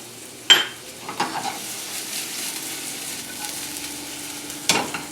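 Shallots dropped into a hot pan for shrimp saganaki hiss into a steady, moderate sizzle, with a sharp utensil clatter at the start and near the end and occasional stirring scrapes, no talk.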